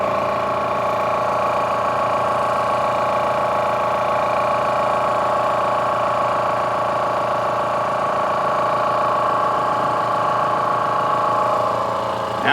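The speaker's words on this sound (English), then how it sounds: "you can hear this running in the background" An air compressor runs steadily while filling an Air Venturi Krypton airgun tank, a constant loud mechanical drone with a rapid pulsing chug that holds unchanged throughout with no talking.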